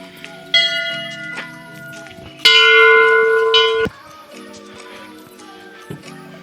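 A metal temple bell at the main gate of a Shiva temple is struck once and rings loud and close for about a second and a half. Fainter clangs and chimes come before and after it, along with ambient noise.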